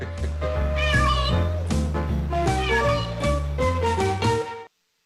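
A house cat cries insistently for attention, a run of drawn-out, tonal meows over a steady low hum that breaks off abruptly at the end.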